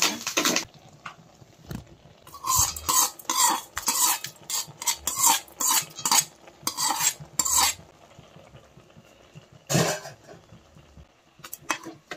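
Yellow pumpkin kootu stirred in a metal pan with its fried curry-leaf tempering, a ladle scraping and clinking in irregular bursts, close and fairly loud, with no voices.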